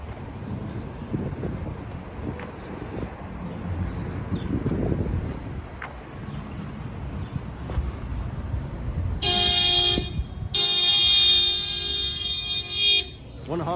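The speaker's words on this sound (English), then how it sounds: "Wanna honk again?" A car horn honks at a pedestrian crossing a city street, two loud sustained blasts a moment apart over wind noise and passing traffic.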